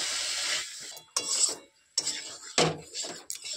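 A spoon stirs boiled banana flower with spices in a pan, giving a run of close, clinking scrapes against the metal in short bursts with brief pauses between strokes.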